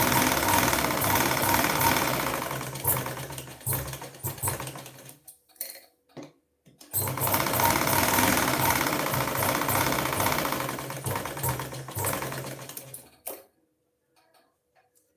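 Sewing machine stitching a fabric piece in two loud, fast rattling runs separated by a short pause, close up, ending with a few quiet clicks, no talking.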